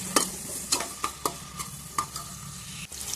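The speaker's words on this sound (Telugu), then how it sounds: "ఇప్పుడు ఉల్లిపాయ పచ్చిమిరపకాయ టమాటా అనేది కట్ చేసుకున్నాను. ఇందులో ఆయిల్ యాడ్ చేసుకుంటున్నాను. ఇప్పుడు వీటిని అయితే ఫ్రై చేసుకోవాలి." Chopped onion, green chili and tomato stirred in hot oil for biryani, a soft continuous sizzle punctuated by about seven sharp scraping strokes of a spoon against the pan at a steady rhythm.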